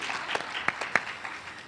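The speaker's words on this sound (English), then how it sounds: "so round of applause for Brittany and her team" A small audience at a greenhouse meeting breakout session gives a brief round of applause for a team from Seward, Alaska: a few sparse, scattered claps, moderately close, fading quickly.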